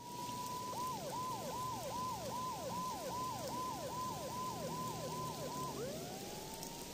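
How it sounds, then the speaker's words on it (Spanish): Police siren in the video game Max Payne 2, a rapid repeating wail that cycles about a dozen times and then winds down, moderately distant over a steady rain-like hiss. "Mona debe de haber oído también la sirena."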